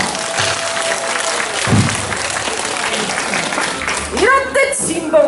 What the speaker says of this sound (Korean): 큰 박수로 정해 듣겠습니다